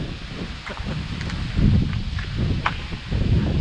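Wind gusting outdoors in the open countryside, buffeting the microphone with a low rumbling roar that swells and eases, with faint rustling and a few small knocks.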